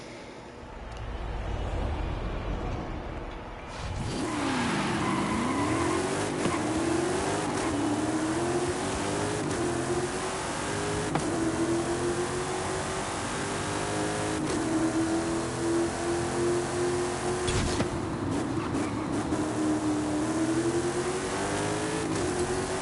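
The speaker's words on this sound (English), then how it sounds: "Hit 167 miles an hour in the Toyota Supra in less than 30 seconds" A Toyota Supra in Forza Horizon 5 fires up and races, its engine rising and falling through repeated revving gear pulls, loud and continuous with no talk over it.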